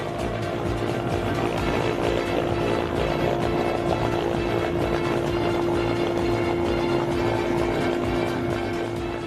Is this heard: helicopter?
yes